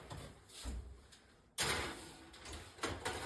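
An oven door is opened so cookies can go in, giving a low rumble and then a sudden louder burst of hinge movement and air. It is close, over a noisy kitchen background, with no talk.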